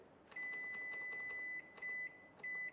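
Three electronic beeps at one steady pitch from a microwave oven's buttons, the first long and the next two shorter, over faint background noise and soft button clicks.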